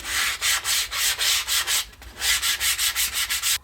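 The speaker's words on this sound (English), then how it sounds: "we're just going to break those with a little piece of 120 grit sandpaper." Edges of a wooden strop are hand-sanded with 120 grit sandpaper, a steady run of rhythmic rasping strokes, about a dozen back-and-forth passes close up, with a brief pause midway.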